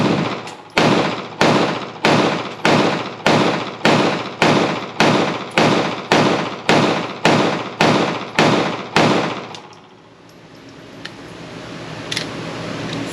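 Rapid pistol fire from a Bul Armory SAS Ultralight, about fifteen loud, evenly spaced shots with ringing decay, close and sharp, followed by a few seconds of quieter outdoor ambience after the string ends.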